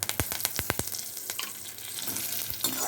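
Curry leaves and chillies fry in hot oil for a drumstick-leaf stir-fry, opening with a burst of sharp crackles and pops up close, then settling into a steady low sizzle.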